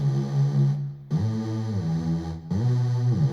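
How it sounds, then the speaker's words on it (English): A thick, buzzy synth bass plays sustained notes in a repeating pattern, bright and brassy with a wide, full tone, heard alone with brief gaps between phrases. "So the second layer of bass"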